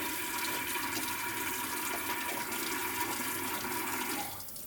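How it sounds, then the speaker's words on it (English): A tap runs steadily for rinsing a hard-ground etching plate, a continuous close rush of water that eases off at the end, with no talking. "So we'll just switch on the tap. You don't need it Niagara, just a little bit."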